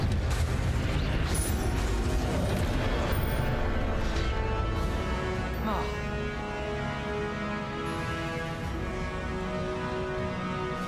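Incendio fire spells cast repeatedly in the video game Hogwarts Legacy, heard as dense, roaring bursts and booms within a continuous wash of game-combat noise, moderately loud throughout.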